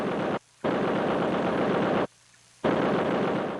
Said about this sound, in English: tracks mounted several weapons, including at least one .50 caliber machine gun, a weapon too heavy to carry on foot.